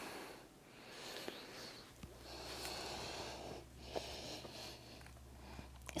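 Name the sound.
deep breathing during a yoga forward fold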